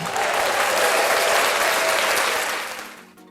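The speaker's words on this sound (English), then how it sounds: "I'm going to let you know how excited I am by giving you a round of applause" A short, close round of enthusiastic applause, steady and full for a few seconds before tapering off quickly into quiet.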